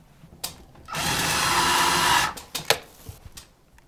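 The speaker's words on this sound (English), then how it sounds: "I'm going to drill this on one side." A power drill bores into a wall to mount a relaxed Roman shade: a steady, loud whirring burst of about a second and a half, followed by a few short clicks and knocks as the tool is set down.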